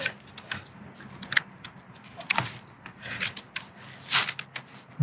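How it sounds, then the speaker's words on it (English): A horse hoof being lightly scraped with a rasp during trimming, a close, dry rasping and rubbing with irregular short strokes and no talk. "I'm just lightly scraping this area"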